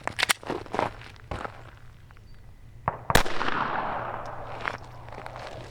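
A single sharp .22 Long Rifle report from a G44 firing Winchester high-velocity copper-jacketed rounds at Level IIIA body armor, one loud crack near the middle with a brief decaying tail, preceded by scattered footsteps and handling knocks outdoors.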